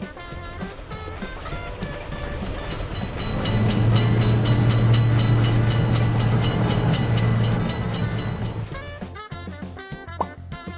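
Train rolling through a railroad crossing in a crossing-simulator video game, with a rhythmic wheel clatter and heavy rumble swelling loud in the middle and fading away, set against a steady layer of crossing tones.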